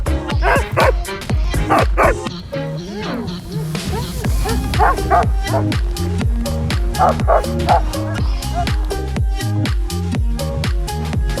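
A team of sled dogs at a mountain ski resort barks and yips continuously and loudly, many overlapping excited voices rising in a dense, rhythmic chorus with occasional whimpers.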